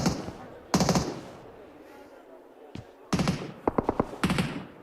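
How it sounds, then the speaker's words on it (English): Gunfire from the video game PUBG Mobile, heard during an esports grand final. Several loud bursts of automatic fire and single shots ring out in a quick, irregular pattern, with a commentator talking between and over them. "There's been bullets whizzing through the windows for a while."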